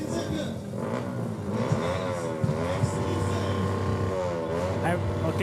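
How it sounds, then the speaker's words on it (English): Loud, continuous engine droning and revving from several small scooter engines passing close by in a Fourth of July parade, with voices mixed into the noise. "These engines are too loud."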